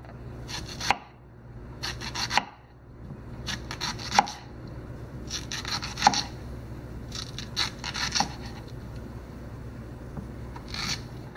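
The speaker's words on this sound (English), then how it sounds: "I'm having trouble cutting through the squash" A knife saws and chops through a squash on a cutting board during barbecue prep: repeated crisp crunching strokes in irregular bursts, close but fairly quiet, over a low background hum with no talk.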